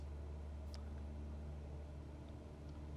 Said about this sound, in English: I'm gonna punch up the throttle a little bit to get us there a tiny bit quicker